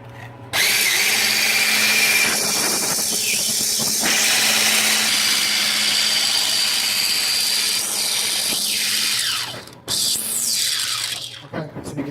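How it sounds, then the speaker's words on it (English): An electric mixer beats egg yolks and sugar for homemade butterscotch schnapps eggnog, producing a loud, steady motorized whir that shifts pitch slightly as it works, then cuts out abruptly near the end. "You want to beat them up until the sugar and the egg yolk is nice and almost golden"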